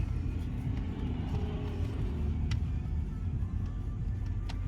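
A 2006 Cadillac DTS cruising along a main road, heard from inside as a steady low engine and road rumble with a constant hum and occasional faint clicks, no talking.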